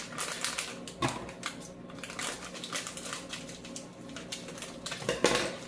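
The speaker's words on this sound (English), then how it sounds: "I am going to take my coconut and mix that in with my" Coconut being stirred into a sweet mixture for homemade Mounds bars, giving a busy run of scraping, clinking and crunching spoon-and-bowl sounds close up, with a couple of sharper knocks.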